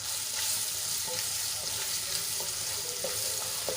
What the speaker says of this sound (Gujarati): ડુંગળીને આપણે ગુલાબી રંગની થાય ત્યાં સુધી સાંતળી લેવાની છે